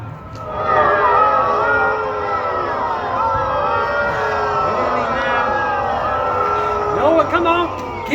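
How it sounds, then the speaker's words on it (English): A crowd boos a performer in a Vietnam War-themed show. Many voices overlap in a continuous, wavering drone that holds for several seconds and swells near the end, close and fairly loud. "Keep booing"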